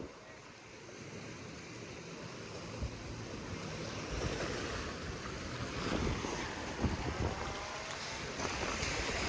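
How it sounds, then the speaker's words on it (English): Ocean waves smack a flooded shore, a broad wash of surf and rushing water building in loudness with wind buffeting the microphone, heavy and continuous throughout. "the waves just keep smacking"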